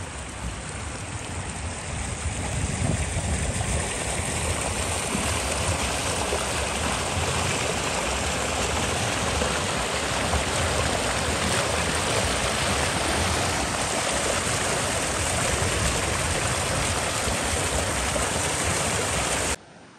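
A mountain stream and waterfall tumbling over rocks in highland countryside, a loud, steady broadband rush of water that runs unbroken for the whole stretch with no voices.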